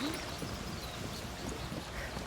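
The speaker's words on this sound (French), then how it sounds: "y a un monsieur cheval." A horse's hooves clip-clop on the ground in A Plague Tale: Requiem, muffled and steady under dense ambient game noise and music.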